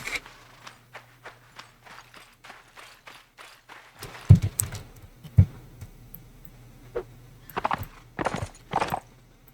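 Video game horse hooves clip-clop steadily at a walking pace, then break into quicker, irregular galloping thuds with a few sharp impacts, set against a low steady hum.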